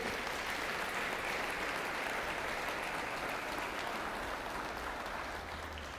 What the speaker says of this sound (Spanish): Denle un aplauso al Señor si usted lo cree.